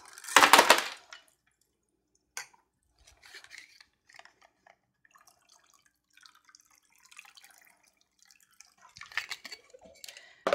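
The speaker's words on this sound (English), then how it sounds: "And then pour out my glass." A Bijou cocktail is poured from a shaker into a glass: a short liquid splash at the start, then faint scattered clinks and drips of glass and ice, and a brief louder rustle near the end.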